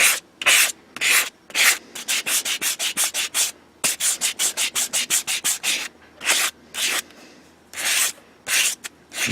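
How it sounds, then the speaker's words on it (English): Sandpaper rubbing a persimmon wood golf club head, close and loud, in quick rhythmic back-and-forth strokes grouped into bursts with short pauses between. "the smaller the area that you're sanding, the more the sandpaper is going to take effect"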